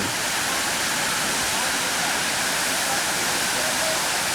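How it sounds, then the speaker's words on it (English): Water from the hills rushes under strong pressure in a steady, dense roar like a waterfall, loud and continuous throughout with no voices over it. "The water flows down from up in the hills someplace, and there's enough pressure behind it to"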